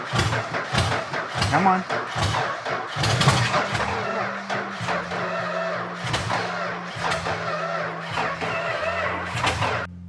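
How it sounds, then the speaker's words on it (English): An old car engine that has sat unused for decades cranks over in repeated bursts, each starter whir grinding for a second or two before stopping, with people talking nearby between attempts. "That is an engine that hasn't ran for 50 years"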